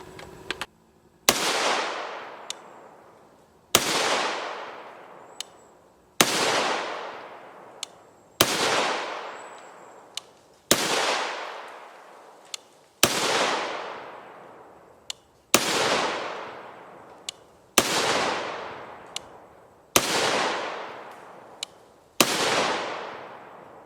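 A PA-10 .308 Winchester rifle with a 16-inch barrel firing AAC Precision 175-grain ammunition: ten loud, sharp shots spaced a couple of seconds apart outdoors, each followed by a decaying echo, no talking.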